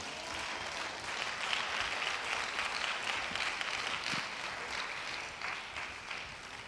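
A church congregation applauds and cheers in praise, a steady dense clapping that fills the whole stretch at moderate loudness, with no voices standing out.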